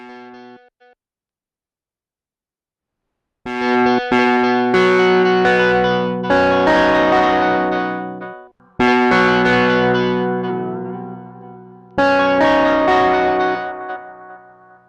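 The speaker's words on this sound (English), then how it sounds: "Now this is a super cool pedal that we're going to use to add in some delay as well as fuzz." A free VST instrument runs through a Death by Audio Echo Dream 2 pedal, giving loud sustained fuzzy chords with a delay wash, played in three long swells separated by brief silences.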